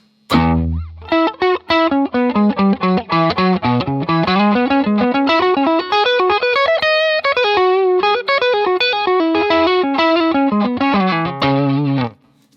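An electric guitar runs through a Fractal FM3 auto-filter set to a moving peak, playing a long stream of rapid distorted notes whose honky, vowel-like tone sweeps up and down, loud and close with no talking.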